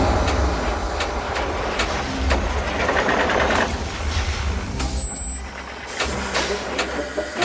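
A vehicle engine sputters and struggles close by, its rough, uneven rumble stuttering and dipping as it fails, with clattering noise on top.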